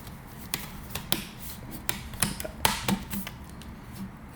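Small plastic tabs on the lid of an HP Spectre x360 ultrabook snapping into place, a series of sharp, quiet clicks and ticks spaced irregularly, close by with no talk.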